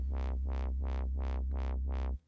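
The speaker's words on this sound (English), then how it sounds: "And I discovered the wobble preset on this engine, which basically sounds like this." An OP-1 synthesizer on its Voltage engine with the wobble preset: a steady low buzzing tone swept open and closed in six even, rhythmic wobbles, loud and close, cutting off abruptly at the end.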